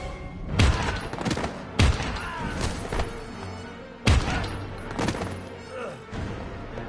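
Repeated loud gunshots in the PS4 Pro version of the game Heavy Rain, three heavy bangs spaced a second or two apart with scattered smaller cracks between them, under tense spoken lines.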